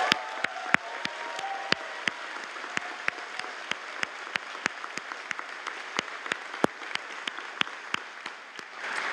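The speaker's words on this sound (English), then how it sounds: "Let's give him a round of applause." Graduation convocation crowd applauding an award recipient, steady broadband clapping from a large audience with sharp individual claps spiking through at regular intervals, continuing for several seconds.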